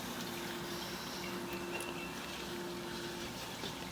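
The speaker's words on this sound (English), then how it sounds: "Let me turn the shower on." Water runs steadily from a shower inside a house's plumbing, a constant hissing rush with a faint tonal hum, unbroken and moderately loud with no talking.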